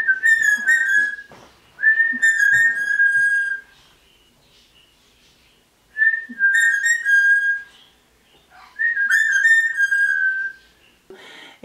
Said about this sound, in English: he just does other random whistles that I do.